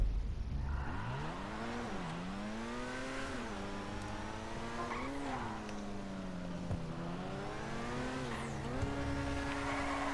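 A tuned Progen Itali GTB supercar engine in GTA Online revs and climbs through gears, its pitch rising and dipping with each shift over a steady, continuous drone, loud and close with no talk.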